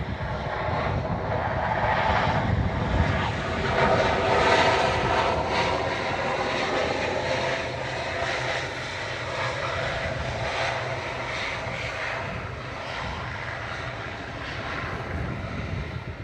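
Loganair ATR 72-600 turboprop on flight 693 from the Isle of Man at Manchester Airport, a loud, steady engine roar holding for about sixteen seconds with buffeting wind noise throughout and no voices.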